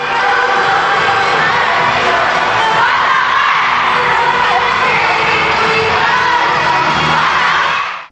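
A K-pop concert crowd chants a rival group's name at a performance: a loud, dense wall of massed yelling and roaring voices that holds steady for several seconds before cutting off.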